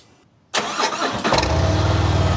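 A motorcycle engine cranks and catches, then settles into a deep, throaty idle through a TAB Redline Series slip-on exhaust, close and loud, with no talking.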